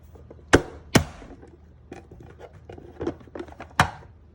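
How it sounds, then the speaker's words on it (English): A knife chopping jalapeños on a board: a few sharp, distinct cuts among lighter irregular taps, close by, with no talk. "We're chopping up jalapeños"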